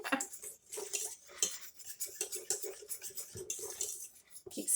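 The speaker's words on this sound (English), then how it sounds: "Keep stirring that." Blueberry cream pie filling stirred in a pot, with a spoon scraping and clinking against the metal in an uneven, continuous rhythm, close but quiet, with no talking.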